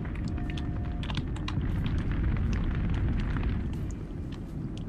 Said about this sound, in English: Sure, our ship just got blown up